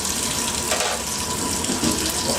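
Hot water runs steadily from a Bosch machine, a continuous close-up hiss and splash of flowing water like a tap filling a sink, with no talking.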